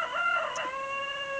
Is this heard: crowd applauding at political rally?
no